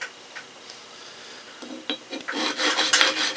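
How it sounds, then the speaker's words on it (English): Steel sole of a budget hand plane from a Dollar Tree or Buck Bros tune-up rubbed across sandpaper, starting faint then building into steady, close rasping strokes that grow louder toward the end. "we're going to run this across the sandpaper until this Sharpie marking is completely gone"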